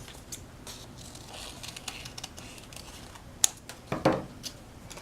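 Scissors snipping through folded tissue paper for a stained-glass craft, with quiet paper rustles and a few sharp, close cuts near the end.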